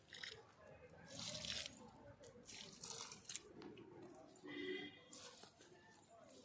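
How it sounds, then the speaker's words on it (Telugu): Water is poured onto plants in an organic home garden, coming in soft uneven splashing gushes that swell and fade, with quiet talking in the background. "ఇప్పుడు మనం చెట్లకి కొన్ని వాటర్ పోద్దాం"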